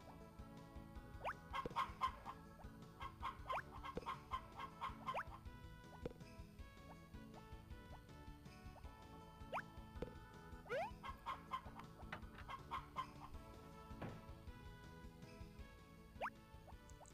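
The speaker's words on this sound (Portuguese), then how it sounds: "agora só vou cuidar das galinhas" Chickens cluck in the farming video game Harvest Moon: Back to Nature, short bursts of clucking repeating over soft looping background music, with no talk.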